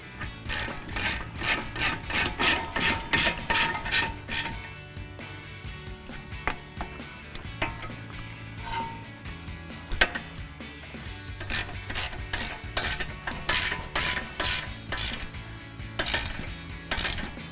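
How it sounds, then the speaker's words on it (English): Ratchet wrench with a 21mm socket tightening a brake caliper bolt on a 2012-2020 Dodge Charger, a long run of rapid, steady clicking bursts up close with a brief pause midway, no talking. "And tighten it down with our 21mm socket."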